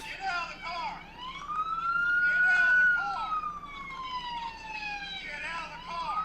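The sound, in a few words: police car siren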